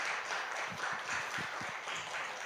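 Applause from a church youth service congregation welcoming a guest lecturer, soft scattered clapping heard at a distance, steady and fairly faint throughout.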